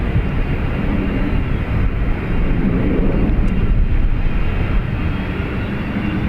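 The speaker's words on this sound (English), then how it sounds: "QR18 787 Dreamliner off to Doha, Qatar Airways." A Qatar Airways Boeing 787 Dreamliner departs Dublin Airport for Doha. Its engines produce a loud, continuous, rumbling jet roar that stays powerful and even from start to finish, with no voices over it.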